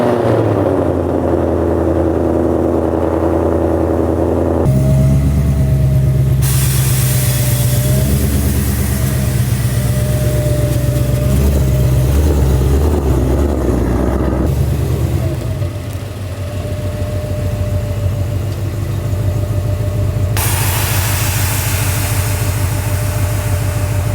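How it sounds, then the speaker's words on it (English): A Ford Mustang Dark Horse rolls into a driveway, its engine a steady, fairly loud low rumble with a brief dip partway through, and no voices over it. "We're gonna go ahead and actually move the Dark Horse back over here into the driveway."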